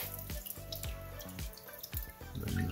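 Water gushing and splashing from a burst old rusty hose pipe in a basement, a steady running stream with repeated drips and small splashes throughout, close and fairly quiet.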